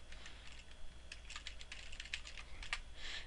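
Keys clatter in quick irregular bursts as a Linux networking command is typed on a computer keyboard, close and fairly quiet, with no voices.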